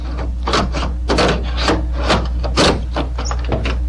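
Slim Jim lockout tool sliding down the rubber weather stripping of a car door, a series of scraping, rasping strokes in an irregular rhythm, close and fairly loud.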